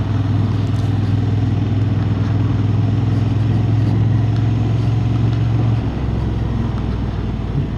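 Honda Hornet 750 motorcycle engine held at high revs in first gear, a loud steady drone that dips slightly near the end, with no talk.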